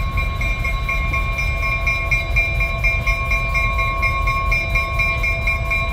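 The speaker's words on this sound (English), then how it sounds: "Looks like they might be moving her here. There we go. Awesome locomotive." A diesel locomotive moving at the Illinois Railway Museum's Diesel Days, a loud, close, steady engine rumble with a sustained whine and rhythmic pulsing throughout.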